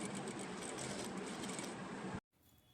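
A sewing machine runs a continuous stitch along a kurti's back lining hem, whirring steadily and close for about two seconds before stopping abruptly, leaving a faint hum.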